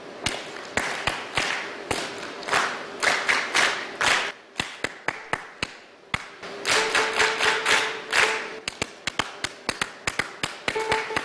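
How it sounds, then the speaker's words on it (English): Sharp, distinct claps in short rhythmic patterns, a single clapper answered by an audience clapping the same rhythm back as an echo, loud and close with brief gaps between phrases. "So I'll clap, and then you clap as an echo."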